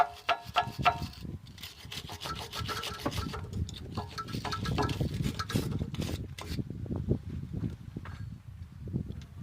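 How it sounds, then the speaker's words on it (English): Wire brush scrubbing the mating surfaces of a rear brake caliper on a 2006-2014 Vauxhall/Opel Vivaro van during a pad change: close, continuous raspy scraping in uneven strokes that go on for the whole stretch, with no talk. "Now take a wire brush or a file or something like that and just clean up the mating surfaces."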